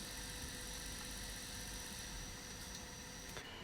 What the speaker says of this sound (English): we're going to start the engine and just run it for about 30 seconds